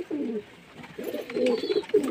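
Pet pigeons coo in a few low, throaty rolling phrases, close by and fairly clear, with short pauses between calls and a quiet background.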